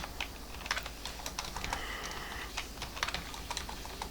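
Rapid keystrokes on a computer keyboard while entering HTML code for a logo image, a steady run of close, crisp clicks with brief pauses and no talking.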